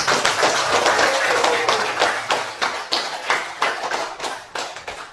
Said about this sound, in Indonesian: Oke, kita beri aplaus. Beri aplaus.